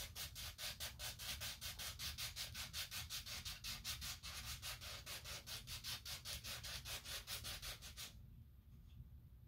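Sandpaper rubbing back and forth over a mask in quick, steady strokes, a close rhythmic scratching that runs for about eight seconds and then stops, leaving quiet room noise.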